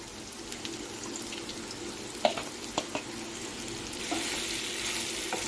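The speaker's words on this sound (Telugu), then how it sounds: "కారం వేసి కొంచెం ఫ్రై చేద్దాం" Chili powder fries with bitter gourd in a pan, a faint steady sizzle with a few sharp scraping clicks of stirring and a slightly brighter hiss toward the end, no talk.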